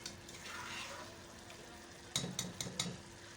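Vegetables for beef jalfrezi fry in a pan with a soft steady sizzle, then a quick series of four sharp clinks of a utensil against the pan near the end, all fairly faint.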